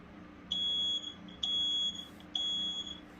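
A First Alert 7020B photoelectric smoke alarm gives three piercing, high-pitched beeps, each about half a second long and evenly spaced, over a faint low hum.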